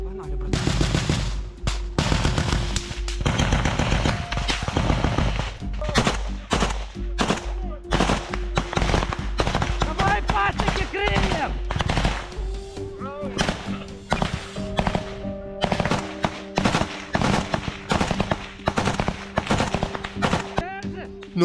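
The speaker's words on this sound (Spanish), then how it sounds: "De repente hay disparos y violencia en medio del bosque." Machine guns and rifles fire in a forest during combat, with dense bursts and single shots crackling loud and close, sometimes in rapid strings and sometimes in scattered cracks, across the whole length.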